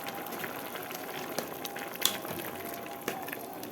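Tomato sauce is poured into a hot pan of sautéed zucchini with onion and garlic, giving a steady sizzling, bubbling hiss with small pops and splashes, close and continuous.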